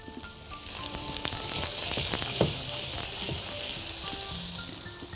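Cheese-stuffed chicken kofta fries in a pan with butter, giving a steady, loud, close sizzle with crackling pops throughout and no voices.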